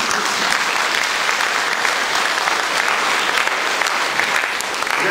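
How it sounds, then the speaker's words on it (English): A science festival audience applauds a maths trick presented by Johnny Ball, loud, dense clapping filling the room evenly for several seconds without talk. "Now you're not applauding me, you're applauding the maths."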